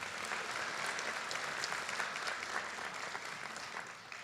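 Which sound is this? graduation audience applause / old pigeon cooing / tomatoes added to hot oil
graduation audience applause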